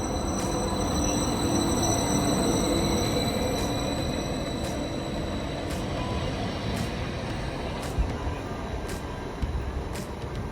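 A Caltrain EMU train runs past on the rails, producing a steady rumble with wheel and track noise and faint high squealing, close and continuous throughout.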